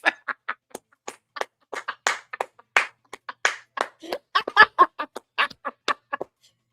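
Hand clapping comes in sharp, separate claps spaced at an uneven rhythm, close and clear against silence. The claps bunch into quicker runs in places, as if from one or two people.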